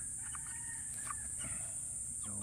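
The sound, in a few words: black Australorp and Rhode Island Red mix chickens clucking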